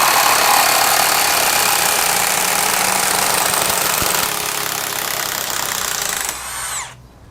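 A Milwaukee M18 high torque impact wrench runs in reverse in a dense, continuous buzzing hammer for about six seconds, then winds down and stops.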